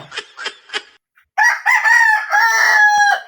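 A rooster crows loudly and close by, a long drawn-out call that follows a few short clucks.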